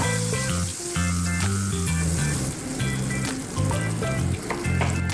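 Potatoes and chilies fry in hot oil, giving a steady loud sizzle with bursts of crackling throughout and no talking.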